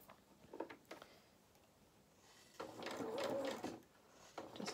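Sewing machine stitching fabric for a sailor dress, faint and close, running in short quiet bursts with a longer steadier run near the middle.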